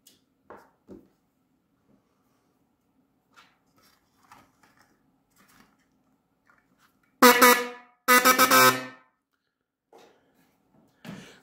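Two loud, blaring horn blasts close by, one short and one slightly longer, against near silence with faint clicks and handling noises.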